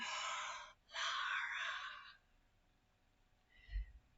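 A person talks while breathing in, so the words come out as two long, airy, strained rasps separated by a short pause, then a faint low thump near the end.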